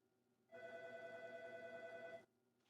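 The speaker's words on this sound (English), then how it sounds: "I don't know if you can hear it, but my phone's ringing right now." A mobile phone rings in a home kitchen during baking, a single sustained electronic ring tone of about two seconds, moderately clear against quiet room background.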